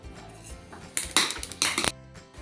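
Whole shahjeera seeds drop into a pot of hot oil, setting off a short burst of metallic clatter and crackling that rises sharply midway, then cuts off to quiet.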